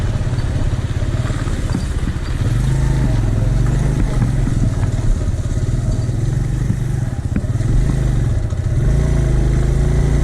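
A motorcycle on a mountain road trip rumbles steadily and loudly throughout, the engine note rising and falling with changes in throttle, heard from the rider's position with heavy wind noise.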